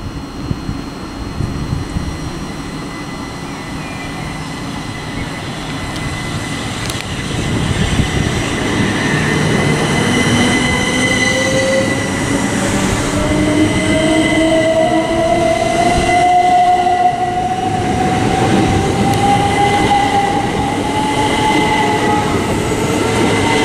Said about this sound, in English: now departing is the 1213 Southeastern service from London Charing Cross to